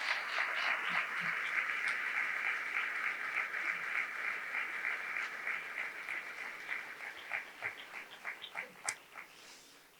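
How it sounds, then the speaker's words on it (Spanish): Audience applause at a ceremony naming an official chronicler, a dense, sustained wash of clapping that thins toward the end into scattered individual claps before fading out. "yo os pido que le demos un aplauso para los que hoy nos acompañan desde el cielo"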